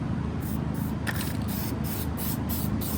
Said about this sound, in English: foam filter spray here.